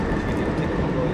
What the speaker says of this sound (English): when the trains fly back, we might go quiet for that one